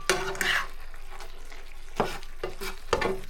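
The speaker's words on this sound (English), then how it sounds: "Now let's add the pepper, the red pepper, and mix it." Squid stir-fry with soy sauce and red pepper being stirred in a hot pan, scraping strokes of the utensil recurring over a continuous sizzle.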